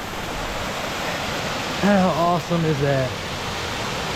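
Ormsby Cascade on Little Cow Creek rushes as a steady, broadband roar of falling water that fills the whole scene, with a voice speaking briefly over it midway.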